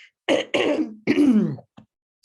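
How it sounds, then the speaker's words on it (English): A few harsh throat-clearing coughs in close succession, close and fairly loud, ending with a short faint hack. "Excuse me while I cough away."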